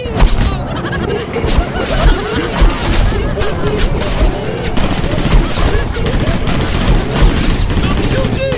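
Heavy, continuous gunfire in a comedic animated story, loud, rapid overlapping shots and booms filling the whole stretch without a break.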